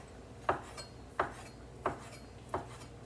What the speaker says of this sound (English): I'm just chopping it in fairly small pieces